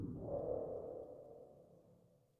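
Video game music shifts back into a stealth state as the player hides again, a dark low-mid synth swell that fades out gradually over a couple of seconds, with nothing else playing.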